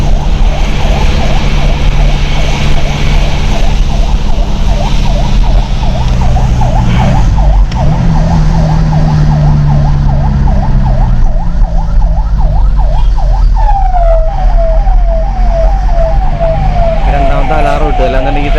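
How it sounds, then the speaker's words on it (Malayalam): An ambulance siren wails in a rapid repeating up-and-down pattern over heavy traffic noise and a low engine rumble, loud and close, switching to a different faster tone near the end. "രണ്ടാമത്തെ അലാറം ഇട്ടു, അല്ലാന്നുണ്ടെങ്കിൽ തിരക്കിനുള്ളിൽ പോകാൻ പറ്റില്ല."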